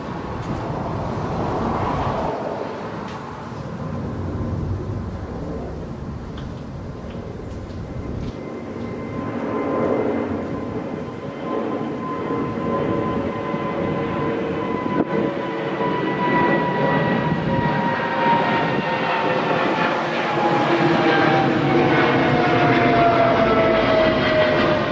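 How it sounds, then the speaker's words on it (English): A jet airplane passes overhead outdoors, a broad roaring rumble that swells and holds steady for about twenty-five seconds with a faint descending whine near the end, heard alone without talk. "Jet airplane fly by."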